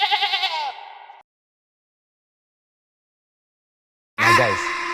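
Two loud, close bleats separated by a long silence, the first wavering and tapering, the second rising sharply, like a goat calling.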